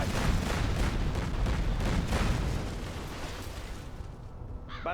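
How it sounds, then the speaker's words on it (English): Buildings collapse under fire in Command & Conquer Generals Zero Hour, a dense, continuous roar of blasts and rumbling debris that stays loud for over two seconds, then thins out as the destruction trails off. "just destroying some random buildings just so we can move around a little bit easier"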